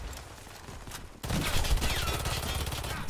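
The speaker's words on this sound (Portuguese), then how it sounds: "Esse cara tá atirando, velho." Gunfire in the shooter Warface, quiet at first, then a sudden loud stretch of rapid automatic shots that carries on steadily to the end.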